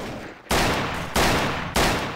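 Gunfire in the game Trouble in Terrorist Town: three loud, sharp bursts spaced roughly half a second apart, each hitting hard and then tailing off into a rumbling decay.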